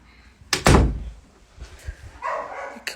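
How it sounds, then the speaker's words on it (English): A house door is pushed shut with a loud, close thud and slam, followed by softer knocks and rustling, with faint background noise after. "Look, let me close this door."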